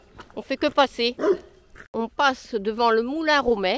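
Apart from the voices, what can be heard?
patou guard dog barking at passers-by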